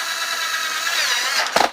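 A power drill drives a black screw into an electrical extension board, a steady whining buzz running throughout before a short, louder burst near the end as the screw seats; no talking.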